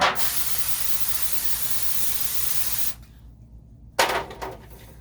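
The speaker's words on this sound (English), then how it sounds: "Now I'm just spraying that so the rice doesn't stick." A steady aerosol butter spray hisses into a pan for about three seconds, then stops; after a short quiet, a few brief clattering knocks follow close by.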